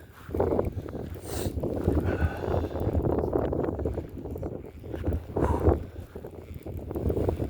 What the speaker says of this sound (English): This wind is kicking my butt right now